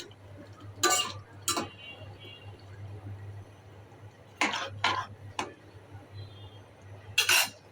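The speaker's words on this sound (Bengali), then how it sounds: "এখানে আমি কচু শাকটা নাড়া দিচ্ছি" A utensil stirs taro leaves in a cooking pot, giving a few separate clanks and scrapes spaced out over a low steady hum from the stove, close by and without talk.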